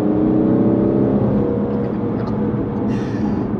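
A 2020 Aston Martin V8 Vantage drives along with a steady low engine drone and road roar, continuous and even from inside the cabin, no voices over it.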